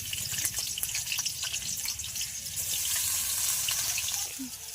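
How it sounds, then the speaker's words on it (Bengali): Bitter gourd frying in oil in a wok, a close, continuous hiss dotted with crackles and pops that grows slightly fuller partway through, with no speech. "আবারও একটু কড়াতে তেল দিয়ে নেব উচ্ছেটা ভেজে নেব"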